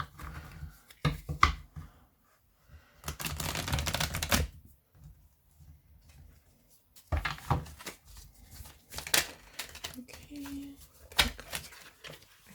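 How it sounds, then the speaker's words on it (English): Two bursts of rapid riffling, cards being shuffled close by, separated by quiet pauses, with a few softer clicks and taps in between. "I think I should give them a shuffle."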